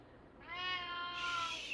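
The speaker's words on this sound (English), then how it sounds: "My cat Miko loves to" A house cat gives one drawn-out, rising meow, close and fairly loud, in a quiet room.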